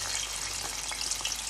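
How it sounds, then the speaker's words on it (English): Bitter gourd (kareleh) deep frying in hot oil in a karahi, a dense steady sizzle with crackling pops, close and continuous, no talk. "let's go ahead and deep fry these Kareleh"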